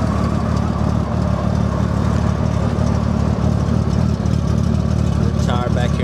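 A 1999 Honda Valkyrie motorcycle with its factory exhaust idles quietly and steadily up close, a smooth low engine rumble held throughout, with a brief voice near the end.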